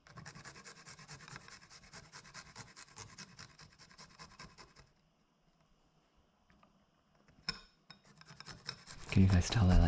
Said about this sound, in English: Grate a few cloves of garlic.